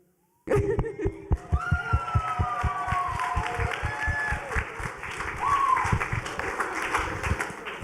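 Audience clapping for AP Government seniors, a burst of individual claps that settles into steady applause with some voices and cheers mixed in.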